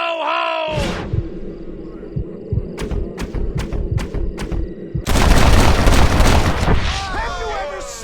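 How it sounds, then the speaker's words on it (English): A gunshot aimed at a hat in the Red Dead Redemption 2 game: one sharp, loud report lands amid a busy scene, followed by several quick knocks and a rising roar of noise, with voices speaking over it. "Get ready to shoot that hat."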